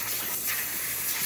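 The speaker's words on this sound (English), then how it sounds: "way more steam coming out of the machine." Steam hisses continuously from a Breville BES870XL espresso machine with a newly fitted three-way solenoid, a loud, steady, close spray of noise with no talking.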